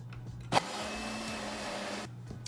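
A blender straining to puree a thick pumpkin mixture, a constant low motor drone for about a second and a half between a sharp knock and abrupt stops, with no talking.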